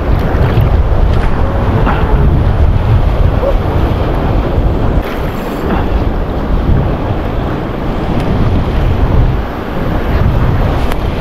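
Big ocean waves roll around a small fishing boat at sea, a loud continuous wash of water and surf mixed with strong wind buffeting the microphone, swelling and easing in slow surges with no talk.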